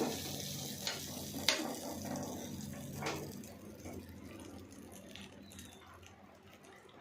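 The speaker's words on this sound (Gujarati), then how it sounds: "ચટણીમાં આપણે વઘાર કરી દઈશું." Mustard seeds, asafoetida and curry leaves sizzle in hot oil for a chutney tempering, a sharp burst of crackling that fades into a softer, steady frying hiss.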